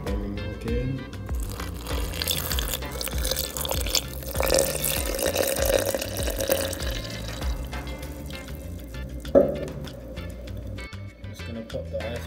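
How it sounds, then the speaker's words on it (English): Milk pours into a blender for a banana and peanut smoothie, a steady liquid glug rising and falling for several seconds, with a couple of clunks and clicks from the jug and jar. "I'm just gonna bring the milk in."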